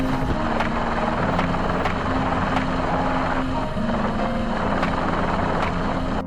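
A helicopter's steady rotor thump and engine drone fill the air continuously, loud and close overhead.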